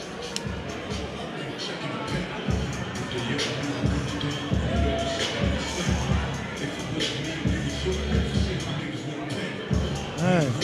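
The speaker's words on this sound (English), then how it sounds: "great crowd in tonight at ABA. Looks like a sold out event" A packed crowd at a sold-out boxing event in ABA Stadium keeps up a steady, busy murmur of chatter and movement, with the occasional louder shout rising out of the background noise.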